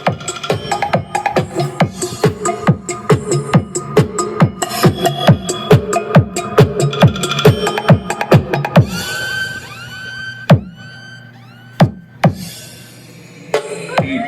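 A Kassel portable Bluetooth speaker plays a punchy DJ remix at full volume, with rapid thumping beats, then thins out to sparse hits and sung or synth notes. The sound is loud and close.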